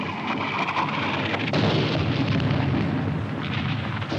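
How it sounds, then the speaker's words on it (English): Artillery barrage in a World War II combat film, a dense, continuous roar of explosions and rumbling blasts filling the whole stretch, loud and unbroken with no voices. "Where's that Jap artillery?"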